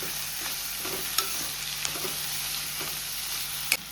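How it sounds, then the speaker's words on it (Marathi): Tomato fries in a pan for Goan prawn chilli, a continuous close sizzle with light stirring and a few sharp utensil taps against the pan; no one talks. "आणि टमाट घालता. टमाट 1 घेतला. हे बी बरे तळसून घेता."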